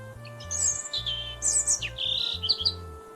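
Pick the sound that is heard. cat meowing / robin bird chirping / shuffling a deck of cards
robin bird chirping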